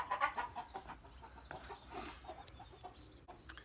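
A chicken clucks and fusses while being held for cutting its wing, soft and somewhat distant over a noisy room background, without speech.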